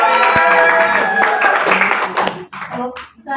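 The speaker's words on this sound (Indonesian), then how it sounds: "Ya, tepuk tangan dulu." Classroom applause from a group of students during a peer-teaching session, a dense burst of clapping with chatter mixed in that thins out and fades toward the end.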